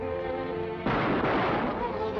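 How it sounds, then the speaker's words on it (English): A single loud gunshot blast fired at a rusted bolt cuts in sharply and rings out for over a second in an old film scene. "Fire into that bolt."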